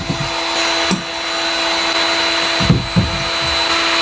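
A heat gun drawing about 1,400 watts from an Anker SOLIX F2000 power station blows a loud, steady fan-and-air roar alongside a small My Heat heater, with a constant electrical whine and a few knocks.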